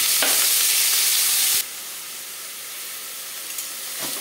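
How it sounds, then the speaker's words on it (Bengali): Onions sizzling in hot oil in a wok for chicken kosha, a loud dense hiss for over a second that drops to a quieter steady frying crackle, close to the microphone. "আমার পেঁয়াজটা লাল লাল ভাজা হয়ে যাবে"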